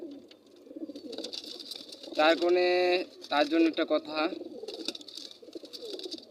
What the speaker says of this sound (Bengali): এই সময় কবুতরগুলো উড়াবো